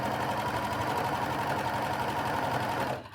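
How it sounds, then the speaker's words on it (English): A Wayliner machine sews an elasticated waistband into a dress with a steady, close, continuous mechanical whir that winds down just before the end. "bring it under the foot and sew around"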